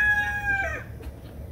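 A rooster crows once, loud and close, its drawn-out call fading within about a second into low farmyard rumble.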